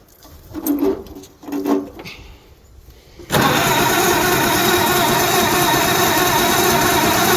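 A 1937 Oliver Hart-Parr 70 tractor engine gives a couple of short cranking bursts, then catches on its first start after sitting and settles into a loud, steady, close running rumble.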